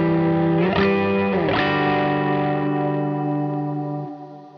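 A guitar played through a reverb pedal on a small-room setting with extra decay: sustained chords ring out with a smooth reverberant tail, two strums close together and then a long fade over several seconds.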